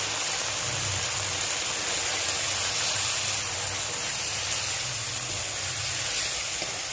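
Turmeric goes into a hot pan of cooking potol, giving a continuous bright sizzle and hiss that stays steady and close throughout.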